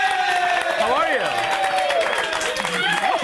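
Studio audience on a talk show applauding actress Alison Brie, continuous clapping and cheering beneath music and a host talking over it, loud and sustained.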